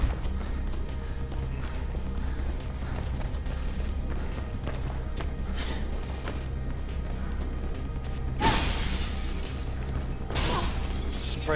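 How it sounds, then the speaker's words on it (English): Glass shatters in a video game, with two sharp bright crashes near the end that sit over a steady bed of game sound and footsteps. "Just break all the glass while we're at it."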